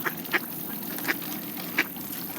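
Mallard ducks quack among Canada geese feeding on seeds: four short, fairly close quacks spaced about half a second apart over a soft, steady outdoor background.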